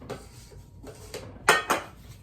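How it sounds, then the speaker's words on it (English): A metal spatula scrapes buttercream off a cake board in short, scratchy strokes, ending with two louder, clattering scrapes close by. "Scrape any buttercream that I have down here on the board"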